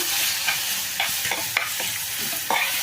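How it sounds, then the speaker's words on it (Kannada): Sambar powder fries with cabbage kurma in a pan, producing a loud, even sizzle broken by several sharp spoon scrapes and taps against the pan. "ಹೀಗೆ ಪುಡಿ ಹಾಕ್ಕೊಂಡು ಸ್ವಲ್ಪ ಫ್ರೈ ಮಾಡಿಕೊಂಡ್ರೆ ರುಚಿ ಚೆಂದಾಗಿ ಬರುತ್ತೆ"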